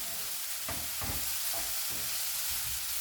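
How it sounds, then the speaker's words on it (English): Quinoa frying in a pan with tofu and vegetables, a soft continuous sizzle broken by several scraping stirs, close and fairly quiet with no talking. "the quinoa in and stir again"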